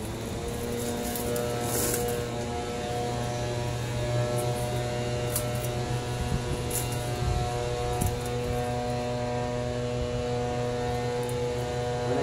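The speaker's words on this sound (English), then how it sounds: "This fan seems a little bit more powerful than my other K637 with this motor." A 1979 Casablanca CB-101 Zephyr antique copper ceiling fan runs with a steady, even motor hum and faint whirring that holds unchanged and alone throughout.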